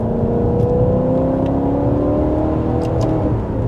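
A Maserati Quattroporte Sport GTS with its Ferrari-built engine brakes down into second gear, a loud close engine note with shifting, falling and rising harmonics that hold steady through the whole stretch.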